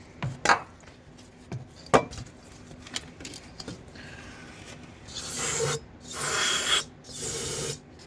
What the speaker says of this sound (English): we're gonna spray off the mounting area with some brake parts cleaner